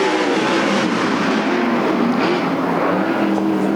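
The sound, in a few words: winged sprint race cars starting a race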